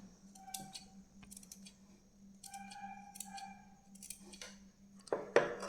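Scissors snipping notches into a fabric neckline during sewing, a series of close, crisp short cuts in irregular bursts with quiet pauses, ending in a louder clack as the blades close.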